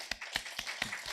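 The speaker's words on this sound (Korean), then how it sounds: "이 두 아론과 홀로 살라고 박수 한번 쳐줍시다" An audience in a church service clapping in a quick, even rhythm, a short burst of a few distinct claps.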